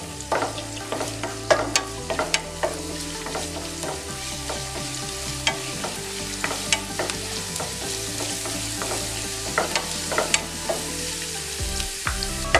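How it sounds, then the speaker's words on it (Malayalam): Chopped ginger and garlic frying in hot coconut oil, a continuous sizzle with frequent clicking and scraping of a stirring spoon throughout. "എണ്ണയൊന്ന് ചൂടായി വരുമ്പോഴേക്കും അതിലേക്ക് ഇഞ്ചിയും വെളുത്തുള്ളിയും ചെറുതായിട്ട് അരിഞ്ഞിട്ട്"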